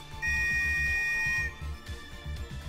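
A single long, shrill whistle blast sounds in the Princess Evangile video game, held steady for over a second over a low rhythmic background score, then cut off cleanly.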